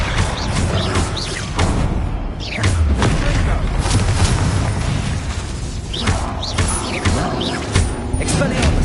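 Spell-casting combat in the Hogwarts Legacy video game, with a dense, loud run of magical blasts, booms and crackling impacts continuing throughout, while a voice calls out incantations over the din.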